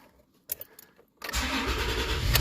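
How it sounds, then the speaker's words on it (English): A 2018 Toyota Tacoma pickup engine cranks and catches after a few faint clicks, then settles into a loud, steady idle close by. "once I start my truck"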